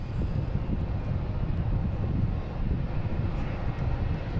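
JetBlue airliner taking off at Boston Logan International Airport bound for Fort Lauderdale, a low, steady engine roar heard from a distance with some wind buffeting, continuous throughout.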